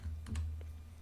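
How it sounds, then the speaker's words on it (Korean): Computer keyboard keys pressed while working in an Excel spreadsheet, heard as a few quick, light clicks close by over a steady low hum, with no talking. "지금 Shift 오른쪽 버튼으로 선택해 주시고 Alt 1 버튼 눌렀습니다."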